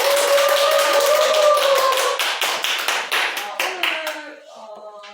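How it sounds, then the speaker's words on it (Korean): A room of people at an academy gathering clap energetically in a dense, even rhythm, close and loud, over a sustained tonal hum, then the clapping slows into a few separate claps and fades out. "힘찬 박수!"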